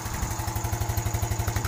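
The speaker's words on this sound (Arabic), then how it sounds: "خاصك تسمع الصوت ديال الماكينة واش الصوت ديالو ما فيه لا تقرقيب لا تكلام" Used motorcycle engine idling close by, a steady rapid low thudding pulse of even firing strokes with a faint mechanical whir above it, no voices.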